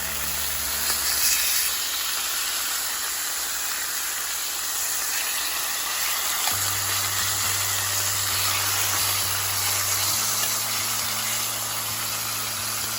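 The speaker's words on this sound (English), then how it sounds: "So here they are, sizzling away." Pork chops frying in a pan, a steady close sizzle and hiss over a constant low hum and a faint high whine, no one speaking.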